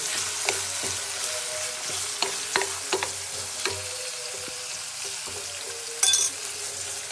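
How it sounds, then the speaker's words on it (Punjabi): Onions and garlic fry in a pan for an aloo capsicum sabzi while a spoon stirs them, giving a steady close sizzle broken by several sharp scraping knocks of the spoon against the pan. "ਹੁਣ ਆਪਾਂ ਇਹਦੇ ਵਿੱਚ ਨਾ ਚਮਚ ਮਾਰੀ ਚੱਲਾਂਗੇ ਤੇ ਥੋੜਾ ਜਿਹਾ ਆਪਾਂ ਪਕਾ ਲਾਂਗੇ ਪਿਆਜ਼ ਨੂੰ"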